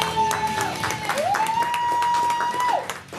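A hypnotist show audience applauds the volunteers on stage, a sustained round of clapping and crowd noise beneath a steady sustained musical tone.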